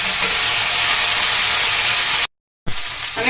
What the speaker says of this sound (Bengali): এইভাবে আমি ভালো করে কপিটা কষে নেব।